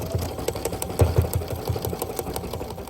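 Sewing machine stitching a face placement line on felt for a Halloween bat jar topper: a steady mechanical whir with rapid, rhythmic needle thumps, close and continuous, with no talking.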